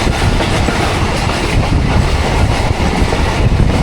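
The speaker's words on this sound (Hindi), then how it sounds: "ले जी 3:20 कालूवाल से थ्रू पास हो रही है ट्रेन।" Train passing steadily through a station near Kaluwal on the Rawalpindi to Lahore line, loud continuous rumble with rhythmic clickety-clack of wagon wheels over rail joints throughout, no voices.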